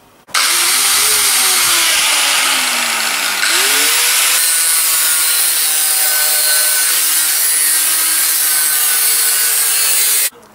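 An angle grinder works a bronze blank for a replica Bronze Age dagger, a loud continuous high-pitched grinding roar running nearly the whole time, with the motor pitch dipping and shifting as pressure changes.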